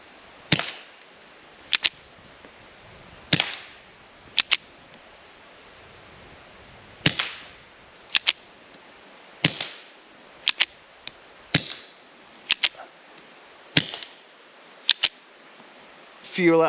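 A series of about a dozen sharp, fairly quiet .22LR pistol shots at irregular intervals, each a crisp snap with brief mechanical clatter between them.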